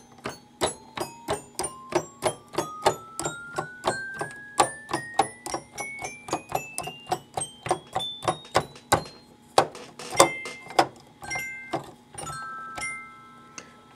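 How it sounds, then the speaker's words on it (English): Bright, bell-like sampled orchestra bell notes climb steadily up a scale in quick succession, then a few chimed notes and chords ring out, each cut off short. "From here going up is where it should sound like the orchestra bells"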